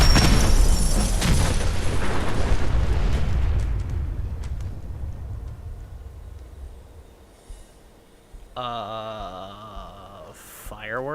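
Explosions in Fallout 4: Far Harbor, a loud booming blast that rumbles and fades over several seconds, followed by quieter game sounds and a short voiced line near the end.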